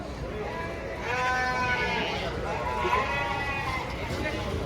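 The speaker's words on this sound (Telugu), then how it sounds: "అన్ని మేకలు ఉన్నాయి గైస్ ఇక్కడ" Goats bleating at a busy goat market in Hyderabad, several wavering calls up close over a constant crowd murmur with people talking.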